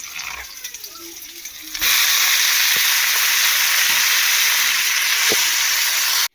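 Chopped fenugreek greens hit a hot pan for bhaji, bursting into a loud, steady sizzling hiss after a quieter opening with faint clatter.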